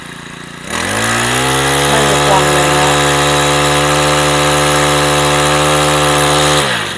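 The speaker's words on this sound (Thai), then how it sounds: "ลองเร่งดู ลองเร่งเครื่อง" A small Honda GX35 two-stroke engine of a brush cutter revs up quickly and holds a high, buzzing whine for several seconds before cutting off. A voice speaks briefly.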